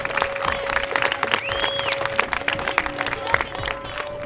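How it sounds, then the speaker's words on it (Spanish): Children in a classroom clapping together, a dense patter of small hands going steadily for several seconds, fairly close, with a faint steady tone running underneath. "Un aplauso, que es nuestro regalo."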